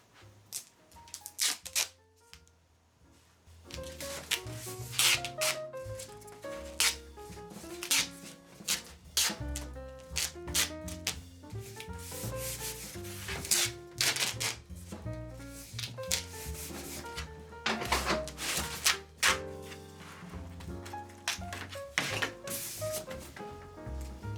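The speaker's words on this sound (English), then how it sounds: "So we're going to use our white duct tape that I got from the Dollar Tree, and I'm going to go ahead and start taping it down." White duct tape being pulled and pressed down during a craft project, with repeated ripping, rubbing and crinkling sounds in irregular bursts, close and fairly loud throughout.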